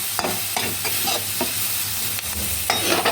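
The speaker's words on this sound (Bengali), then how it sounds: "ব্যাস এটাকে একটু নেড়ে নেবো।" Spoon stirring Kashmiri chilli powder, sugar and ground pepper in a sizzling pan, with steady frying hiss and a few scraping strokes throughout, close and fairly loud, no voices.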